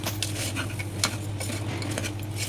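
Pounded jaggery is stirred into cooked lentils for bobbatlu, giving quiet scattered clinks and scrapes of a spoon against the pot over a low steady hum, with no talk.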